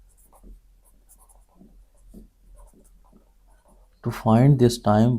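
Chalk or marker writes on a board in short, soft strokes, coming in scattered bursts near the listener. A voice then talks over the end of it.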